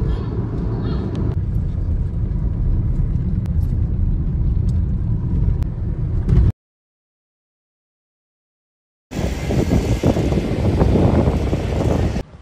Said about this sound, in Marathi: मला टेम्पो चाललाय बाई.